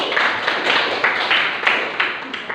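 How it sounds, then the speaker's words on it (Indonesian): Classroom applause for a student named Aldi during a school lesson, with rhythmic, fairly loud group clapping in regular beats, close and sustained throughout. "Tepuk tangan buat Aldi."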